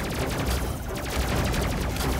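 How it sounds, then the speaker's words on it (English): Enemy gunships in Space Crew fire at the crew's ship, producing a continuous rattling barrage of rapid shots that keeps going without a break. "All that fire coming towards us."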